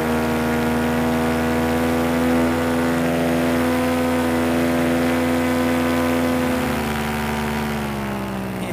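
A small, lightweight aircraft engine with propeller drones steadily near full throttle, loud and close throughout, its pitch dipping slightly toward the end, with no talking.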